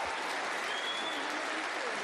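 A snooker crowd at the 2023 European Masters final applauds, a dense, steady clapping that fills the hall evenly and sounds slightly distant, with no voices standing out.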